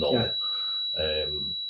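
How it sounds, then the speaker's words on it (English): A steady, high-pitched electronic tone drones continuously beneath a person speaking nearby. "Beeping going on."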